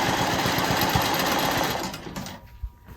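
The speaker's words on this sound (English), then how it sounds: "Come over another stitch and then down to finish it out." A sewing machine stitches a quilt border in a fast, even run of close mechanical needle strokes, then slows and stops near the end with a few faint clicks.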